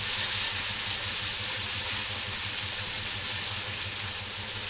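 Onion paste is fried in oil for doi katla, a continuous close hiss and sizzle that runs evenly without pause and with no talking.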